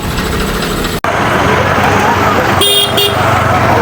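Vehicles move through a dusty goat procession with a steady traffic roar, a brief dropout, then a couple of short horn toots amid the noise.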